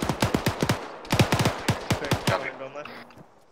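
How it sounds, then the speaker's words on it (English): Heavy machine gun fire in Arma 3 pounds out in a quick rhythmic string of loud, punchy shots that spread into echoing reverberation at the end, with no one talking. "Heavy machine gun fire."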